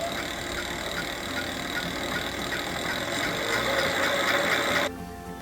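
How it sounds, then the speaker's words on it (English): An e-bike conversion kit motor hums steadily under test, a sustained whirring drone with a faint high whine that holds even, swells slightly, then cuts off abruptly near the end. "and then of course you want to test the motor"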